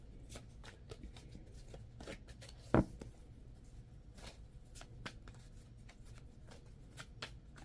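Children of the Cosmos oracle cards being shuffled by hand, a soft continuous riffling with one sharper snap partway through, quiet and close.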